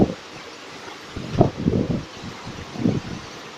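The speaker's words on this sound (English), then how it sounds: "Very, very windy." Strong storm wind gusts in irregular rumbling bursts, buffeting the microphone close up with rustling noise between gusts and no voices.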